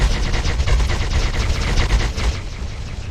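A ship's weapon fires in X4 Foundations, a rapid stream of loud repeating shots rattling on steadily for about two seconds before the burst stops and a lower rumble carries on.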